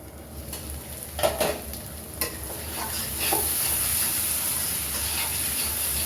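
Potatoes sauté in a pan, a soft sizzle and hiss broken by a few clattering stirs near the start, then a steadier frying hiss builds and holds, with no one speaking.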